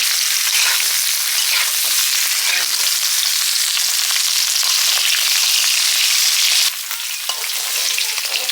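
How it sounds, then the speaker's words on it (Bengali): Shol fish frying in hot oil in a pan, a loud, steady, dense sizzle that hisses continuously and dips slightly in level near the end, with no voices. "এদিকে মাছ ভাজা হচ্ছে মাছ ভাজা হয়ে গেলে ওখানেই তরকারি বসিয়ে দেওয়া"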